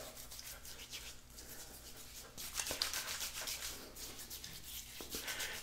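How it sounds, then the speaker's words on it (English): Hands vigorously massage a pre-shave product into a beard before a wet shave, making a steady, close, soft rubbing and bristly scrubbing with small crackles, quiet and with no voice. "Massage it together directly into the skin"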